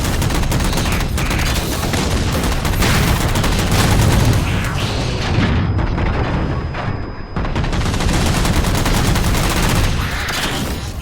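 Dense, sustained gunfire from a Halo 4 campaign firefight as jammers are shot down, a loud continuous barrage of rapid shots and booms filling the whole stretch with only a brief dip midway.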